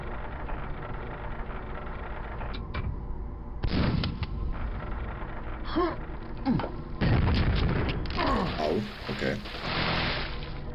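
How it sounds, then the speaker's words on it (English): Explosions in the video game Quake, with two heavy booming blasts rising out of steady game noise, the second longer and louder with a rumbling tail. "That's a pretty mean explosion."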